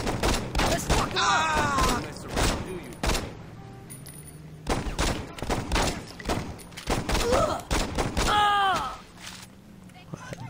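Bursts of gunfire in the Saints Row video game, repeated loud volleys and rapid shots separated by short pauses, with people talking over the shooting.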